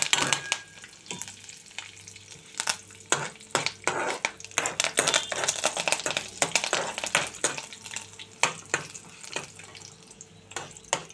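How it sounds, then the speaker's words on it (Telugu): Asafoetida and curry leaves hitting hot oil for a tempering, crackling and spitting in dense close pops over a continuous sizzle. "అలాగే కొంచెం ఒక చిటికెడు ఇంగు కూడా వేద్దాం. కొంచెం కరివేపాకు కూడా వేసుకుందాం."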